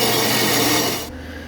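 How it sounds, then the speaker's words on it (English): Steady rasping cut through exhaust tailpipe turn-downs on an LT1 El Camino, loud and continuous for about a second before stopping abruptly, leaving only a quieter low hum. "we're going to get started by cutting the turn downs off so we can try to fit this other part on there"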